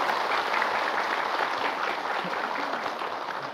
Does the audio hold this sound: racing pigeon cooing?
no